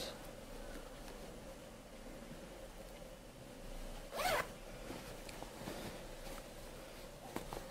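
A quick zip as the zipper on a pair of homemade sewn shorts is pulled closed, a single brief rasp over a steady quiet background hiss.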